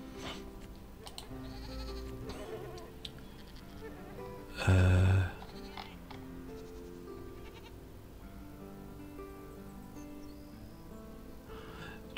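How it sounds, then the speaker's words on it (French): A goat bleats once, loud and close, in the farming sim Farm Manager 2021, a brief call standing out over steady background game music and faint insect-like ambience. "Bon, du coup, j'achète une chèvre."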